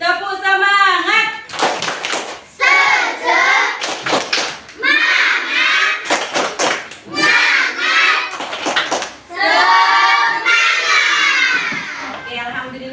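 Schoolchildren in a classroom perform the tepuk semangat chant, loud voices calling out the lines in unison between sharp bursts of rhythmic group clapping, the claps and chanting alternating closely throughout.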